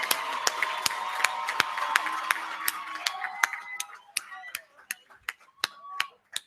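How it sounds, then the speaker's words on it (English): Audience applause for the Botho University Choir students, starting as brisk rhythmic clapping that thins out into scattered, isolated claps, with faint voices in the room. "Please, let's give them another round of applause."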